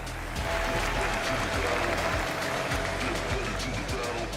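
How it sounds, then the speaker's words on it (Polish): A crowd at a CLOUT MMA media training and weigh-in event applauds, a dense, even patter of many hands under a low droning background, with some voice-like sound mixed in. "Wielkie brawa!"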